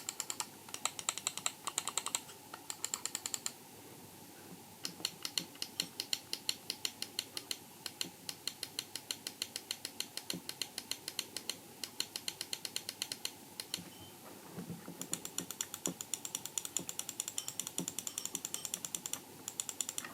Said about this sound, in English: you'll be hearing the blue switches, or the Huano switches